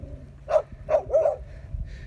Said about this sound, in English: I've got dogs barking now.